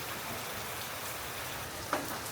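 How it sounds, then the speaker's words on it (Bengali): Continuous rain falling, a dense, even hiss of drops on surfaces, with one brief faint tap near the end. "বৃষ্টির পরিমাণটা একটু কমছে।"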